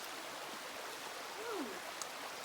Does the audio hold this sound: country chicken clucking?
no